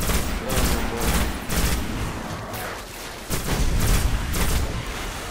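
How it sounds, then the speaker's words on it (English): Explosive bursts and rapid gunfire in Destiny, a grenade blast among repeated loud booms and shots, dense and close, with a voice faintly under the battle noise. "Yo, this grenade is amazing"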